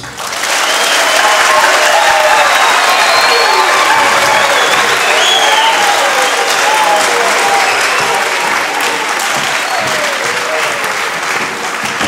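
Loud, sustained applause from a large concert audience fills the space, with scattered cheers and voices rising within the clapping.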